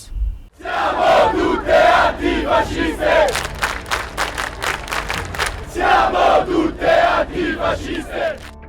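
Crowd of thousands of protesters gathered in front of Belfast City Hall at an anti-racism rally, loud rhythmic chanting and shouting in unison, repeated bursts of massed voices rising and falling throughout.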